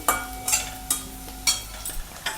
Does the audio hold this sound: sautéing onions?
yes